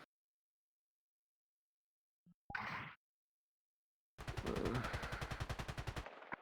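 Beam rifle fire in the VR game VRChat, a short blast followed by a sustained rapid stream of pulsing energy shots, loud and close, with silence before.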